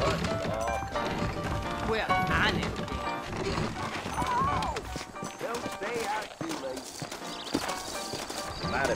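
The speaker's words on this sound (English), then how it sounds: "I got the horses saddled up and ready out front" Horse hooves clip-clopping in Red Dead Redemption on PS5, a steady trotting rhythm running under game dialogue and background music the whole time.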